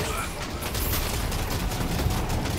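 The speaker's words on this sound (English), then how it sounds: "Now we just shoot the ball." Shots fired at a ball in the hero shooter Deadlock, a fast burst of crackling gunfire repeating steadily at moderate loudness, with some background voice.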